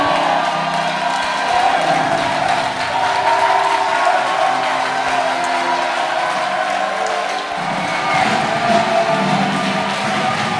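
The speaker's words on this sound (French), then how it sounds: "Je vais attendre des acclamations," A church congregation breaks into sustained applause mixed with cheers and whoops, a dense, loud crowd roar that holds steadily for about ten seconds with voices shouting within it.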